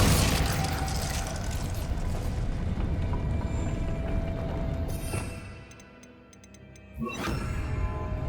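Glacius ice spell cast in Hogwarts Legacy, a dense burst of crackling, booming game effects that fades to near quiet, then a sharp icy impact with bright ticking shimmer.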